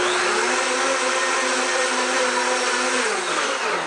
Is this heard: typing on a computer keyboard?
no